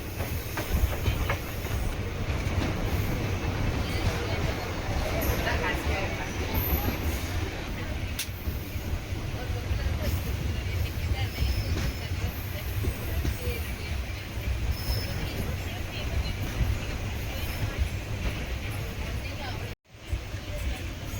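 The Karaikal Kamban Express runs at Cuddalore Port Junction with a steady, loud rumble, rolling wheel clatter and hiss filling the whole stretch, and a faint voice under the noise.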